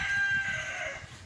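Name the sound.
rooster crowing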